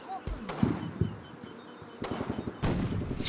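Rifle and machine-gun fire in a Combat Mission Normandy WWII battle, with sharp broadband cracks and bursts at irregular intervals over a steady battlefield background, loud and near.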